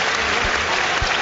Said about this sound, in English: Warm applause from the Fulham fans